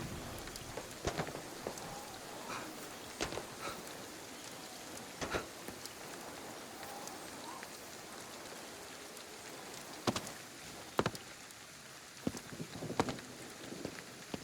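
Rain falling in a video game, a soft steady patter with sharp scattered cracks and pops throughout, faint and continuous.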